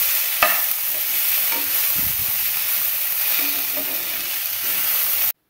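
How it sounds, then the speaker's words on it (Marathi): Large tomato pieces sautéing in a pan for a mixed vegetable handi, a loud close continuous sizzle with a few stirring scrapes, no talk. "हे देखील यामध्ये टाकून आपण हे टोमॅटो छान मऊ होईपर्यंत याला आपण परतून घेऊया."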